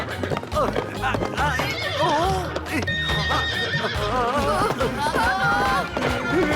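A runaway horse in an animated cartoon neighs and whinnies repeatedly over a busy, loud scene, with hoofbeats clattering beneath and excited voices mixed in.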